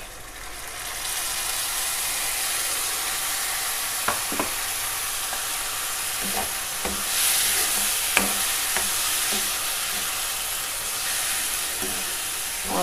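Tomatoes sizzling in a hot pan of browned aromatics for a simple okra dish, a steady broadband fry with occasional sharp clinks and stirring knocks throughout, close and fairly loud with no talk.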